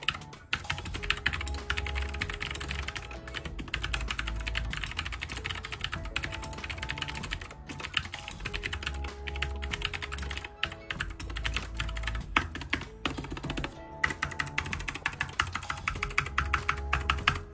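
Rapid, clicky mechanical keyboard with blue switches typing rattles on continuously, sharp and close, with a few brief pauses between bursts.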